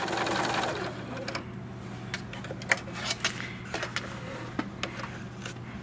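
A sewing machine back stitching across the bottom of a cinch sack, a near mechanical whir at the start followed by quieter clicks and short needle taps with a low hum underneath.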